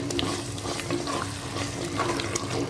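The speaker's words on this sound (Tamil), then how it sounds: "இப்போ இதை நல்லா வதக்கிக்கலாம்." Ginger and garlic fry in oil in a pan for mutton biryani, a close, continuous crackling sizzle with intermittent stirring scrapes.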